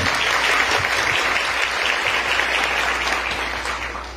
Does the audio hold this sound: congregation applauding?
yes